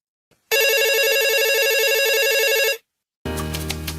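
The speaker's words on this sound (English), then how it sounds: "Get that telephone dialing." A telephone rings on a sports talk show's call-in line, one loud electronic trill lasting about two seconds, then a pause before a second ring starts, with no talking.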